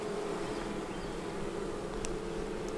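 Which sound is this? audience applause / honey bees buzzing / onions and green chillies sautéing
honey bees buzzing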